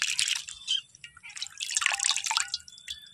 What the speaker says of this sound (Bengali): এখন আমি এই আলুটাকে 3 থেকে 4 বার খুব ভালোভাবেই জল পাল্টে পাল্টে পরিষ্কার করে নেব